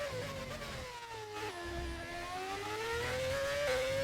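A high-pitched Formula 1 car engine with engine mods in a racing video game, whining steadily and sweeping down then back up in pitch as the car slows and accelerates, fairly faint.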